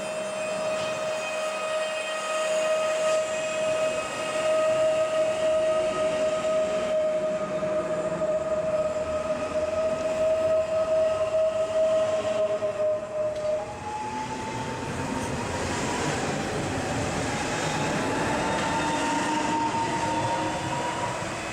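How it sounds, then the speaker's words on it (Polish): SKM line S9 commuter train pulls out of the Warszawa Gdańska station, a long steady tonal whine from the electric drive that shifts pitch midway, then rising motor hum and rolling rumble as it gathers speed. "odprawia pociąg"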